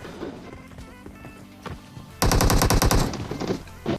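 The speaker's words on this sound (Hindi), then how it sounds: "आगे ट्रिपल स्टोरी के पास से गोलियां चलने की आवाज आती है" Gunfire in the video game PUBG Mobile near a triple-story building: a loud rapid automatic burst of about a dozen shots, preceded by quieter game ambience and a single later shot.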